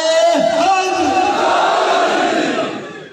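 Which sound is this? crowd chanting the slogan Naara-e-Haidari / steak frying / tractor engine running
crowd chanting the slogan Naara-e-Haidari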